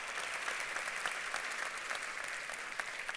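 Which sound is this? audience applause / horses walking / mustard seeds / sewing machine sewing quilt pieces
audience applause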